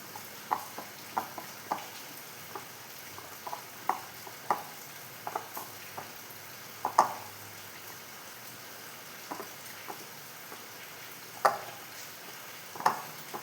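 Bread and egg batter being mixed by hand in a bowl: soft wet squelches and scattered light clicks repeat irregularly, close but quiet, with no talking.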